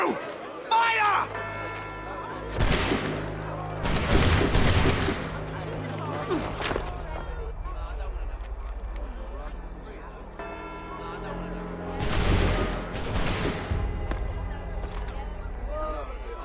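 Musket volley gunfire in the game Assassin's Creed 3: loud bursts of massed shots at about four seconds and again near twelve seconds, each followed by ringing decay, over a steady low rumble and background game music.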